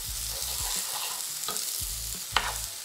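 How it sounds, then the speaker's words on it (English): Onions, garlic and beef frying in caramelized sugar for a Trinidad-style stew steak, with a steady close sizzle and repeated stirring scrapes, plus one sharper clatter near the end. "And as the sugar starts to caramelize, now you wanna add the onions,"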